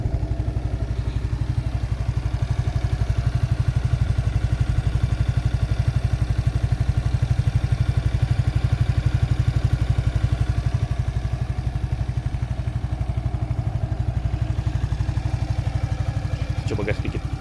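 A Suzuki Nex II air-cooled scooter engine idles steadily, a smooth low putter running evenly at close range, with a brief clatter near the end.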